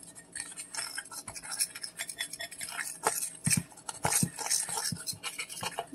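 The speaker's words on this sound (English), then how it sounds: "Mix the cornbread muffin mix completely." A spoon stirs packaged cornbread muffin mix in a bowl, giving close, uneven scraping and clinking strokes with soft wet squishes, with no talk.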